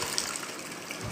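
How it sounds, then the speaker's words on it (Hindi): Clothes being rinsed out of detergent in a bucket of water at home: a brief, steady gush and slosh of water, close and continuous, with no talking. "अब ये हम सर्फ से निकाल के और पानी में धुल देंगे।"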